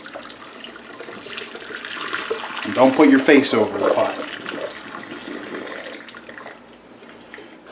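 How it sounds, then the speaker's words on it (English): Water poured off a pot of freshly hard-boiled eggs, a splashing, gurgling rush about three seconds long that swells in the middle and trails off, with a person talking over it. "So I'm going to drain the water."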